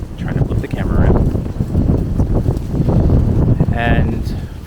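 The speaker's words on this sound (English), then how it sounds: "praying there's no wind cutting into the microphone, because as you can see it's quite windy at the moment" Heavy wind buffets the microphone in loud, rumbling gusts outdoors on Bloor Street West at the University of Toronto, with muffled handling noises throughout.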